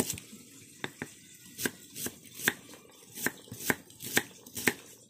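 Knife chopping ingredients on a board for ginataang kuhol, snail cooked in coconut milk: about a dozen crisp, evenly spaced taps with a faint watery background.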